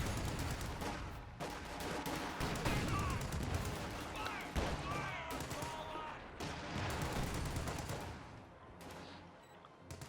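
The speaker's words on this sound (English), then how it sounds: "Pack howitzer getting some shots off at a distance there at those Volksgrens." Rifle fire crackles in scattered bursts while pack howitzer shots thud at a distance, a dense battle din from the video game Company of Heroes 2 that runs steadily with a voice talking over it.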